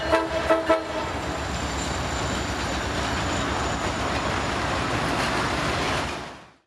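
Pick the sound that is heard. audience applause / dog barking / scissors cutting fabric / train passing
train passing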